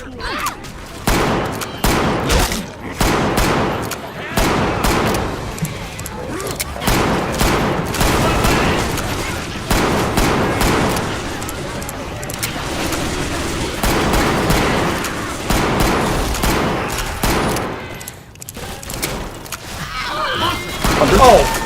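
Rapid bursts of AK rifle fire in the zombie shooter Left 4 Dead 2, loud and dense over about twenty seconds with explosions and game noise mixed in.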